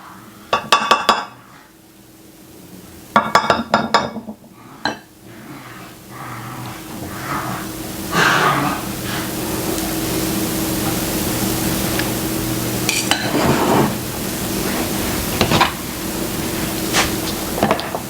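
Sour cream mixture spooned onto noodles in a casserole dish for a hamburger casserole: sharp clinks of a utensil against the dish in two quick bursts, then softer scraping and spreading sounds under a steady background hiss.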